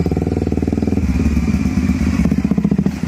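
A motorcycle engine runs close and loud, with a rapid pulsing putter that steadies into an even idle, heard alone without talk.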